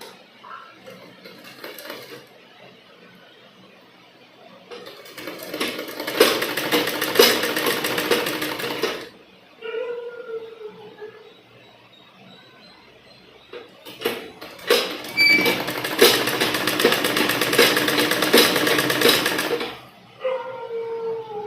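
Sewing machine stitching a sleeve on fabric in a tailoring class, running in two long steady bursts of rapid whirring with quiet pauses between them, close and fairly loud, and no talking.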